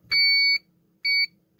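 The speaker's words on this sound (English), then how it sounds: "the test good light comes on and the beeper beeps" Electronic beeper on an ESD wrist strap tester sounding a passing test: clear, loud, steady two-tone beeps, one long about half a second and a shorter one, then a third starting, with quiet gaps between.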